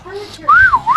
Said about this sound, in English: I think that's supposed to be someone whistling, but it just sounds like a bird chirping